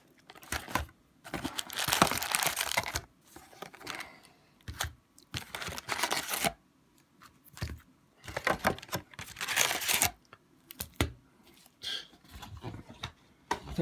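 Plastic packets crinkling and rustling as they are handled, close and fairly loud in irregular bursts of crackle with short pauses between, no voices.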